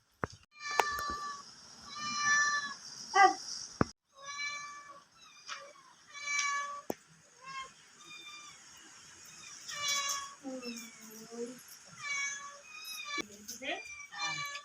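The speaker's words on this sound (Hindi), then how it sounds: "अभी हमारे यहाँ पे फिर से छोटी छोटी बिल्ली आई है" A mother cat and her small kittens meow repeatedly at close range, with several overlapping high-pitched mews in irregular bursts, some longer and whinier, while someone speaks intermittently between them.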